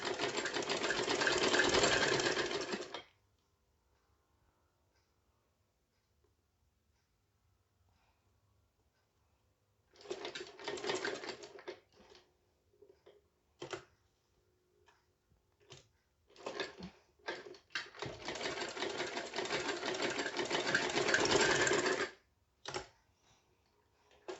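A sewing machine stitches an umbrella frock in long, loud continuous runs, separated by a quiet pause and brief stop-start bursts where the needle halts and restarts.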